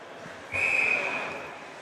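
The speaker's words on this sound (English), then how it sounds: "Referee with a whistle." A referee's whistle at a boys high school ice hockey game blows one strong, sustained blast of about two-thirds of a second, rising over the murmur of the arena crowd and fading into background rink noise.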